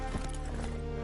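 Roach, Geralt's horse in The Witcher 3 video game, gallops with quick hoof clip-clops over a steady low rumble of game sound, close and continuous for about a second.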